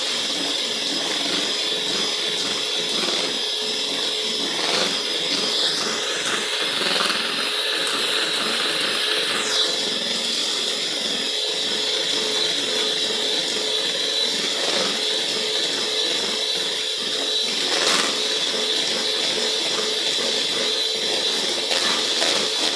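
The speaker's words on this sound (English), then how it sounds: "That is the last time I'm using the cake mixer" An electric cake mixer whirs steadily for the whole stretch, beating carrot cake batter made with vegetable oil in a home kitchen, a continuous motorized drone with occasional brief pitch shifts and no talking.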